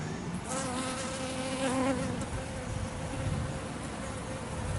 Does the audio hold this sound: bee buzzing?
yes